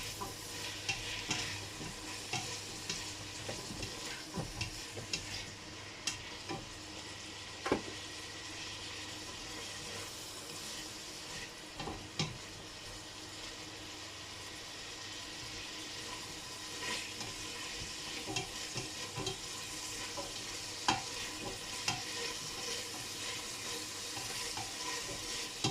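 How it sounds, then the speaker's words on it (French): Onions fry in a pan for rougail saucisses, giving a steady close sizzle broken by occasional stirring scrapes and clinks, with no one speaking. "pour l'instant, on s'occupe de cuire les oignons"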